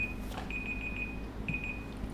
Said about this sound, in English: Excuse that was my alarm on my phone.